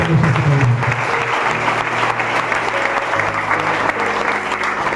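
Loud, sustained applause from a church congregation fills the moment, a dense steady clatter of many hands that holds for several seconds without pause.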